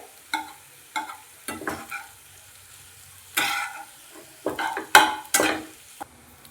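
Leftover cooked rice stirred and fried in a hot pan, a string of separate scraping spatula strokes with short bursts of sizzle between quiet pauses, close up and clear.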